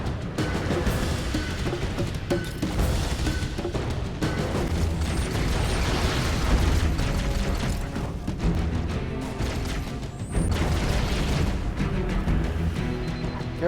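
Grenades go off in a chain reaction in Halo: Combat Evolved, a dense, continuous run of booming blasts and crashing debris that fills the whole stretch at steady loudness with no clear gaps.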